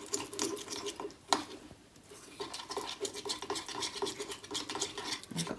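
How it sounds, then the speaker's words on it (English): Icing sugar mixture for gingerbread people is stirred round a bowl, giving a quick, uneven run of scraping and clinking strokes, close up, with a brief sharper knock partway through. "Stir it round and round."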